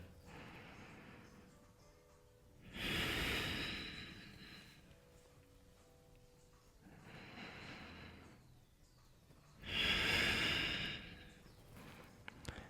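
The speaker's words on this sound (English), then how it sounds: "Take 2 more breaths here." Deep, slow yoga breathing during a stress-relief stretch on a mat: two loud, broad breath rushes about seven seconds apart, with a softer breath between them, close by over a quiet room.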